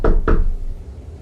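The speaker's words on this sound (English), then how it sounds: "the knock at the bedroom window" Two quick, solid knocks strike a bedroom window in an animation, close and distinct, followed by a low lingering rumble.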